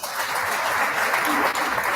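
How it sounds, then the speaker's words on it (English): Audience of old boys applauding themselves at a gathering, a dense, continuous wash of clapping, loud and close, with faint voices mixed in. "Clap for yourselves."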